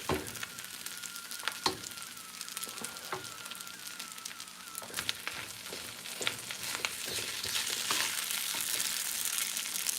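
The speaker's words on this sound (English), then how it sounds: "we'll come in here and scoop some of these vegetables up" Stir-fried noodles and vegetables, including plenty of onion, sizzle in a wok while a utensil scoops and scrapes through them, with soft clicks and knocks over a steady frying hiss that grows slightly louder toward the end.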